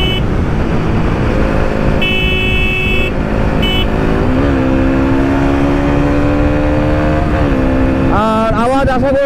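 A motorcycle runs at about 110 km/h with the rider's helmet visor closed. A loud constant roar of wind and engine fills the whole stretch, with sustained horn-like tones and rising whines from passing traffic.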